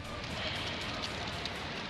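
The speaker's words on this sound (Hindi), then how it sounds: "उत्तरकाशी में बारिश नॉन स्टॉप" Steady rain falling in Uttarkashi, a dense continuous hiss of drops on surfaces with no pauses, fairly loud and even throughout.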